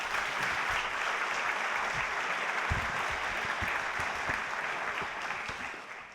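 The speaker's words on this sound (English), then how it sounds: "Please welcome with a warm applause Professor Johan Rockström." Warm audience applause at the Global Solutions Summit 2024 opening, welcoming Professor Johan Rockström; a dense, sustained crowd of clapping hands at moderate level, tapering slightly at the close.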